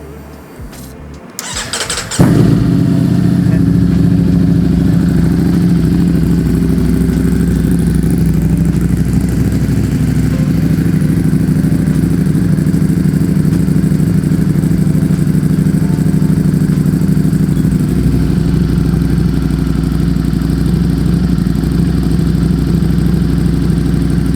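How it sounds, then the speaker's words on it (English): A Ducati Streetfighter V4S motorcycle with an Upmap tune cranks over and fires up, then settles into a steady, loud, close-up idle that runs evenly for about twenty seconds with no talk. "So let's do the first startup on this motorcycle."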